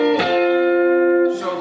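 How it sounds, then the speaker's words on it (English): Electric guitar lick from a song, hammer-ons on the second and fourth strings: one picked, ringing chord-like phrase sustaining for over a second before a second attack, clean and close with no talk. "I'm hammering on my 2nd finger and my 3rd finger to the 2nd"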